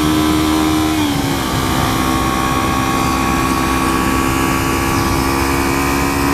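A motorcycle engine runs loudly and continuously as a steady, close droning hum whose pitch dips once early on, then holds even throughout.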